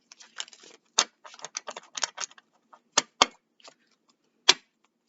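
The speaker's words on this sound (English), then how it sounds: "One more shuffle." Tarot cards are shuffled in quick bursts of crisp riffling and flicking, with sharp snaps between short pauses, close and fairly quiet.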